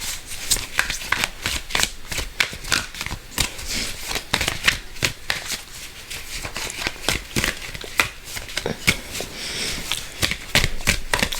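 Tarot cards being shuffled by hand close up, a steady stream of quick riffling flicks and taps that runs the whole time with no talk.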